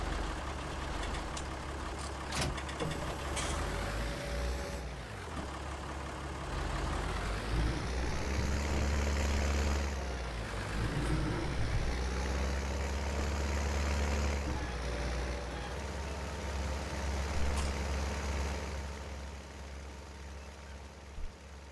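Pickup truck engine in Farming Simulator 19 hums and rumbles while driving, rising and falling with speed through several gear-like sweeps, with moderate, fairly distant engine drone and no talking.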